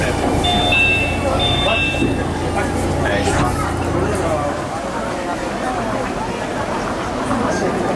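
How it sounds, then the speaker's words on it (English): Steady low rumble and rolling clatter of a monorail train ride at a Disney park in Japan, a continuous ride noise with faint background voices mixed in. "Every single Disney park I've gone to, I've ridden monorail."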